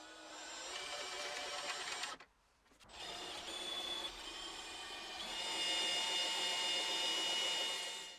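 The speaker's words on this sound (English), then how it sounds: "Using a drill at the other end of the steel rod, the winding process can begin" Power drill winding wire into a coil on a steel rod, a steady whirring motor hum with a brief pause partway through, then resuming and building slightly, close and fairly quiet with no speech.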